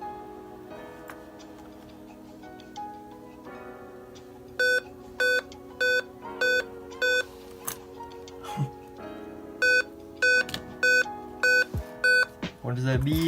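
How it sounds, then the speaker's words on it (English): A plugged-in computer beeps in a regular series of short, identical electronic tones, close and clear. A quieter ticking hum runs beneath, and a person talks around the beeps. "Why are you beeping at me?"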